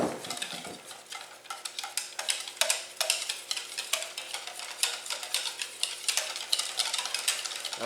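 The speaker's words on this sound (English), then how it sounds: "I'm just going to whisk all of this together." Batter of milk and melted butter being whisked in a bowl, a fast string of close, crisp ticking strokes in an uneven rhythm, carrying on steadily with no talking.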